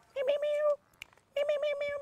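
Two drawn-out cat meows, close and clear, with a short gap between them filled by a faint click and rustle; a domestic cat in a comedy sketch.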